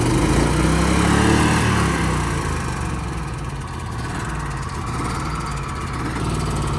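A Rayco RG27 stump grinder's engine runs steadily at throttle, a loud, continuous mid-pitched drone with a slight dip partway through and no voices.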